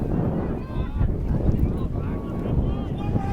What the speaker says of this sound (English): wind kicking up